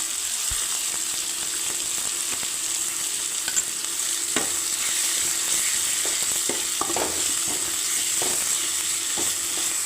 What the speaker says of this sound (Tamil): இதையும் போட்டு கொஞ்சம் நல்லா வதக்கிக்கோங்க தக்காளி சேர்க்கும் போதே நம்ம இஞ்சி பூண்டு பேஸ்ட்டு சேர்த்துக்கலாம்